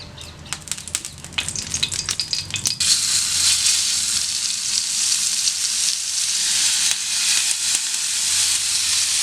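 Tandoori chicken pieces sizzle loudly in oil on a dosa pan over a gas stove, first with a few scraping and clattering touches, then a steady, bright, close frying hiss that fills the rest.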